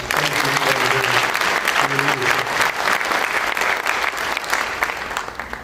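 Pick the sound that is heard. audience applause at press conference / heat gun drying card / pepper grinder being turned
audience applause at press conference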